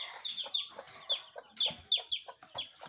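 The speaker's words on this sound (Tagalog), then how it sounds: "Pitong sisiw." Pet chicks make short, high chirping peeps in quick, uneven bursts, close and fairly quiet, with no talking.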